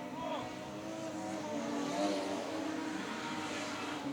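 Production race cars drone around a track in a national title heat, engines blending into a continuous near roar beneath a commentator talking over the action.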